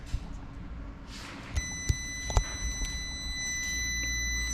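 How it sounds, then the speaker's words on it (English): After some handling clicks and taps, a multimeter on continuity mode, probing a Lexus LS400 alternator plug, gives a sustained high-pitched beep that continues steadily to the end. "We've got it on continuity. We've got it to beep."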